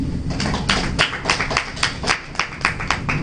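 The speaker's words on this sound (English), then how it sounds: "Let's have a round of applause for her." An audience at a World Economic Forum 2017 parallel session applauds a speaker with a short burst of distinct, separate hand claps from a small group, fairly near and uneven in rhythm.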